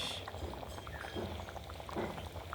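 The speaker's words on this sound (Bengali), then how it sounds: "আস্তে আস্তে ঝোলটা ফুটছে" Green chili meat curry gravy simmering in a pot, a faint, close bubbling and soft gurgling that continues steadily for a couple of seconds.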